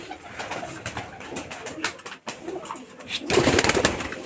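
Giribaj pigeons from Rajshahi cooing close by, soft repeated throaty coos with some rustling, pausing briefly before a louder, busier burst of cooing near the end.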